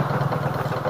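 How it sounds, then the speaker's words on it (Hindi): Motorbike engine running steadily nearby at a mountain hanging bridge over the Alaknanda River, a continuous low throbbing hum with fairly even loudness throughout. "एक बाइक आ रही है सामने, ये मुझे अभी क्रॉस करके निकलेगी"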